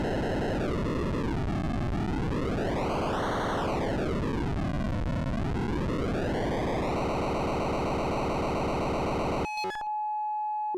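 A Mr. Wavey synth module from Blue Lantern Modules drones on its spectral wave setting, a buzzy bit-crushed tone sweeping down, up and down again before holding steady, then cutting off near the end.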